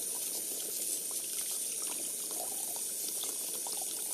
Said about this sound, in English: you're ready to rinse them off